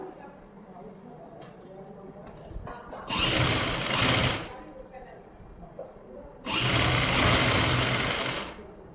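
A sewing machine stitches lace onto a blouse back neck in two loud, steady bursts of about a second and a half each, separated by quieter handling noise and faint background sounds.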